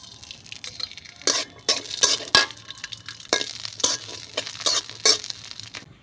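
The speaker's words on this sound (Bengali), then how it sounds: "এই যে কাজু কিসমিস ভাজা হয়ে গেছে" Cashews and raisins fried in oil in a pan, heard as a soft continuous sizzle broken by repeated sharp scraping and stirring strokes of a spatula at close range.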